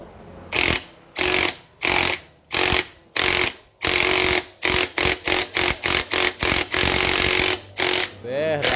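A battery impact wrench hammers at a stubborn bolt on a motorcycle, firing in a series of loud, close rattling bursts, some long and some short, with brief pauses between them.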